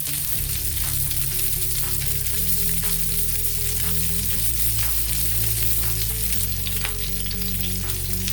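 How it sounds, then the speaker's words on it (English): Pork tenderloin sizzles and crackles steadily in a hot frying pan while browning, a loud, continuous frying hiss over a low background hum. "this ain't gonna be in the frying pan for too long. We're just getting it to a golden brown"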